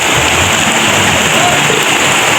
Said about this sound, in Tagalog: na naman ang ulan mga guys